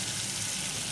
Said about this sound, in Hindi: 5 मिनट हो गए इसे भूनते हुए।